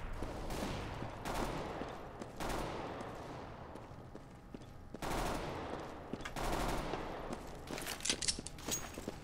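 Rapid gunfire bursts in the video game CS:GO on the Resort map, with a decoy grenade imitating shots, several loud staccato volleys separated by brief pauses, fairly distant and with no talking.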